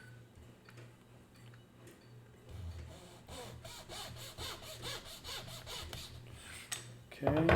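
A small hand saw cuts off a fitted spread wedge during violin bow rehairing, its close, rhythmic back-and-forth strokes running steadily for several seconds before a louder clatter at the end.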